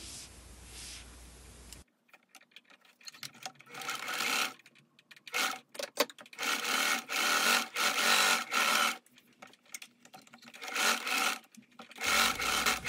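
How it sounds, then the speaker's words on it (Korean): A sewing machine stitching the side seam of a dress sleeve, running in several close bursts of rapid whirring separated by short pauses, after a brief quiet opening. "소매의 옆솔기도 박음질을 합니다."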